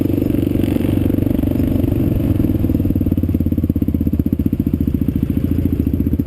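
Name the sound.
Kawasaki KLR650 motorcycle riding on a dirt road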